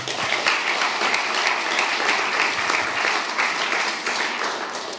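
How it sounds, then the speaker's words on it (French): An audience at the Prix Chronos 2023 award ceremony breaks into full, continuous applause. Many hands clap together in a loud, dense roar that holds steady throughout without any speech. "Je pense qu'on peut les applaudir."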